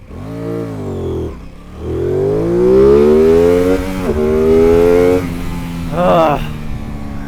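A 2024 Aprilia Tuono 660 Factory motorcycle accelerates hard through several gears, its loud, close engine note rising steeply in pitch with brief drops at each shift, with no talk.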